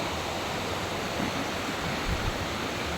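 A countryside stream runs among fields and hills lined with mahogany and coconut trees on its way to a river, its water rushing in a steady, full wash of noise with no voices over it.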